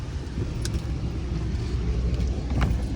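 A car rolls steadily through a residential neighborhood near a pond, its engine and tires making a constant low rumble with a few faint clicks on top.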